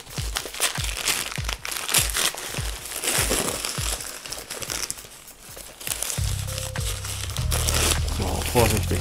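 Crumpled newspaper packing around a mailed parcel rustles and crinkles as it is pulled away, close and fairly loud, in bursts, with someone speaking over part of it.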